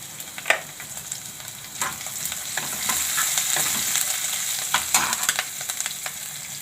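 Garlic and chilies fry in hot oil for Manchurian, a steady bright sizzle with occasional sharp clinks and scrapes of stirring, close and moderately loud with no talk.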